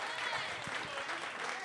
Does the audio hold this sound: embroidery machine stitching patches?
no